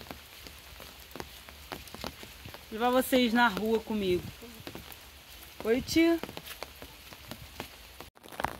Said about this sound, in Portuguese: Caindo um pé d'água aqui.